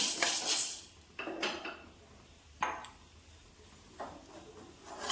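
Roasted chana dal is scraped and tipped into a vessel, giving scattered metallic clinks and scraping rattles of utensil on pan in short bursts, fairly quiet and close.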